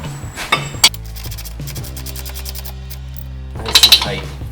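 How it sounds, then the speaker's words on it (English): Nylock nut being snugged down with an 18mm wrench on a Polaris RZR XP Turbo rear CV drive axle, giving a few close metallic clicks and clinks amid a steady hum, sharper taps bunched at the end. "We're going to grab our 18mm, we're going to snug that guy on."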